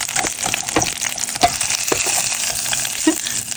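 A second batch of chicken fries in oil in a small pot for Nigerian fried rice, giving a loud, continuous close-up sizzle with occasional sharper pops and stirring scrapes.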